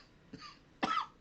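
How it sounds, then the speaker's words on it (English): A man coughing twice, a short light cough followed by a harsher, louder one, close and clear with nothing else around. "Cough it out, man. Cough it out."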